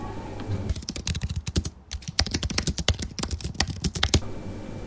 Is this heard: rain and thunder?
no